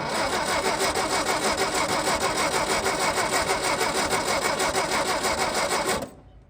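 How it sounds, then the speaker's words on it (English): A 1959 Volkswagen Beetle engine runs with a knock, a rapid, steady mechanical clatter at a loud, even level that cuts out near the end. "That's why it's doing that noise. Yeah, it's knocking, right?"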